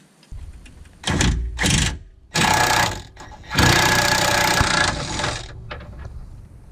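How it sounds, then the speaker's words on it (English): Impact wrench fitted with an 18mm socket loosening a steering rack bolt on a fourth-generation V6 Camaro, several loud buzzing bursts of rattling hammering with short pauses between them, close by. "to remove the passenger side bolt, I have a 18mm socket on my impact"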